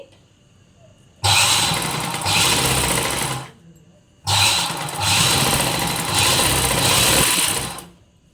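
A sewing machine stitches a coat collar in two sustained whirring runs of about two and three seconds, separated by a short pause, loud and close with no talking.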